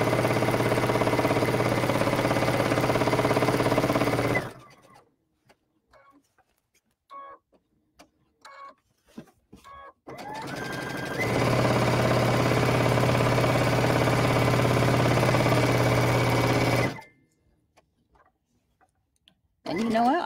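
Domestic sewing machine stitching fabric for a shirred appliqué leaf quilt block, running in two long steady whirring bursts separated by quiet gaps with faint clicks and handling noises.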